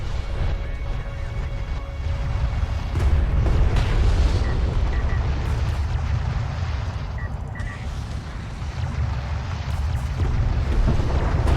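Railgun salvo fire rumbles through a Homeworld: Deserts of Kharak battle, a dense, sustained barrage of deep booms and heavy blasts rolling continuously and loudly, with no voices.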